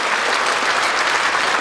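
A concert hall audience applauds the Loktev Ensemble at its 85th anniversary concert, a brief burst of dense, loud, continuous clapping with no voices over it.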